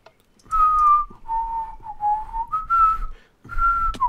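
A person whistles a short melodic tune in several clear, bright phrases separated by brief pauses, close and fairly loud with no talking.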